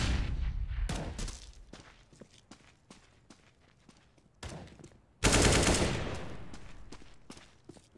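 Counter-Strike gunfire: scattered sharp shots and quick clicks over a few seconds, ending in a sudden loud burst that rings out and fades slowly.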